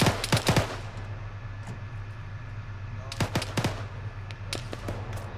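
Gunfire in ArmA 3, with rapid bursts of automatic shots at the start and again midway plus scattered single cracks, set against a constant low engine hum and faint background noise.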